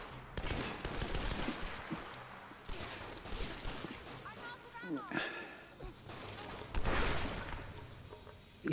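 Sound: gunfire from Tomb Raider multiplayer video game

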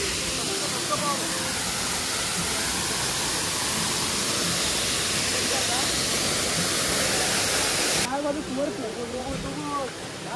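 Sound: hot water waterfall in Konkan

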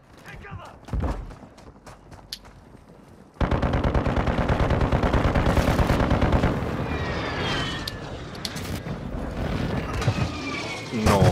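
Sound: airstrike and gunfire in a video game

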